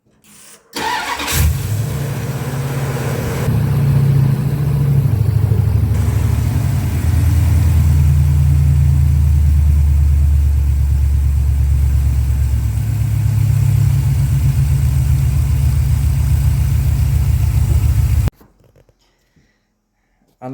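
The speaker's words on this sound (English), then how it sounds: "Brody, crank it." A 1989 Dodge D-150 with a throttle-body-injected engine cranks, catches and settles into a loud, steady idle close by for most of the run, then shuts off abruptly into near silence.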